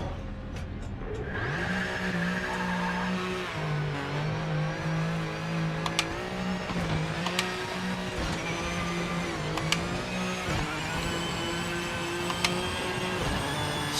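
A Corvette races in a driving video game, its engine revving and shifting through a steady sweeping drone, with brief sharp ticks and a squealing tire tone running continuously for the whole stretch.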